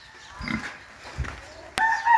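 A pig gives a couple of low grunts, close by, with a sharper squeal-like burst near the end amid farmyard noise.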